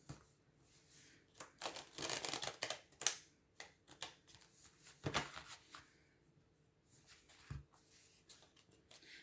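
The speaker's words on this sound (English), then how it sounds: "Can I have cards like that to shuffle again? Okay, Spirit, let's see. Let's shuffle." Quiet bursts of cards being shuffled, crisp riffling rustles that come in several short runs with pauses between, close by and soft.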